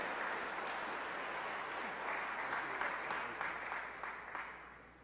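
A church congregation applauds after a ministry address, with sustained clapping from many hands that swells slightly midway and then tapers off toward the end.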